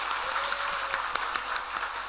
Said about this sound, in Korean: 성도님들이 따뜻한 박수로 환영해 주시면 감사하겠습니다